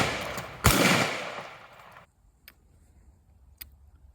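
An Eternal Arms 20 gauge shotgun fires one loud, sharp blast with a decaying echo tail, followed by a couple of faint clicks.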